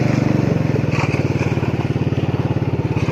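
A tractor engine runs at a gravel crushing site, its loud, close diesel chug pulsing in a fast, steady rhythm throughout with no pause.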